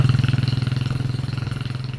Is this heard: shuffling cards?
no